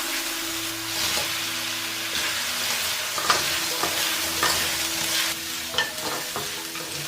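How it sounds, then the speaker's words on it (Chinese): Razor clams stir-fry in hot oil with minced garlic and green and red chili peppers, a loud, steady sizzle with intermittent clacks and scrapes of a spatula tossing them in the wok, without speech. "炒到断生了之后，把蛏子放进来翻炒。"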